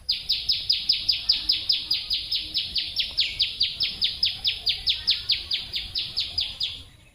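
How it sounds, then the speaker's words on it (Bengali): A bird repeats a bright, high chirping call about thirty times in a fast, even rhythm, fairly close, with faint background noise. "পাখির ডাক শোনা যাচ্ছে"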